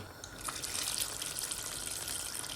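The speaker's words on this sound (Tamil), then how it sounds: "கரைச்சி வச்ச புளியை விடுவோம்." Dissolved tamarind water poured into a pot of payaru sambar, a soft steady splashing gush of liquid, close and faint, with no talking.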